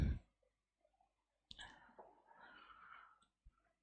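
Scratchy writing strokes on a classroom board during an engineering mechanics lesson, a faint continuous scrape lasting under two seconds with a few light taps before and after, heard alone.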